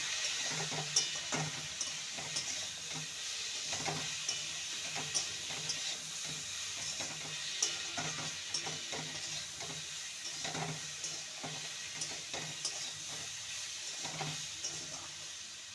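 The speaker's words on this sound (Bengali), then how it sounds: "সমস্ত মশলাকে ভালো করে কষিয়ে নেব" Spices frying with ginger paste and four slit green chillies for a Malabar spinach chachchari, a steady sizzle with intermittent stirring scrapes running throughout, moderately close, with no talking.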